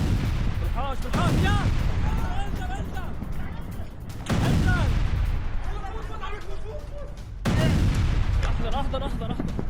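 A missile strike on a Hezbollah weapons depot among houses in Lebanon sounds as loud, booming blasts and crackling rumble at three points, with someone talking over them throughout.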